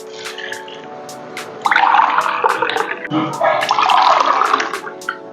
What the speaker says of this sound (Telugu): నాలుగు గ్లాసులు వాటర్ వేసుకోవాలి మనం ఇప్పుడు